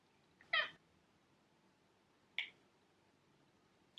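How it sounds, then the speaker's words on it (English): A needy house cat gives two short meows, a couple of seconds apart, close to the microphone in an otherwise quiet room. "I have a very needy cat."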